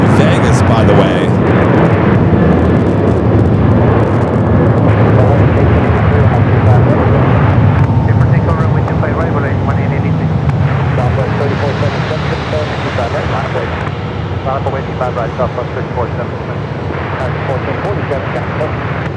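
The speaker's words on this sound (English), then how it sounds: "Got a Volaris A320 in the mix as well." A Volaris Airbus A320 airliner roars steadily at Phoenix Sky Harbor airport, a broad loud jet rumble that eases slightly toward the end, with a voice talking over it.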